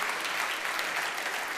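Audience applause at a talk with the president of Argentina's central bank, a steady dense wash of clapping from a crowd that holds even for the whole short stretch, with no voices over it.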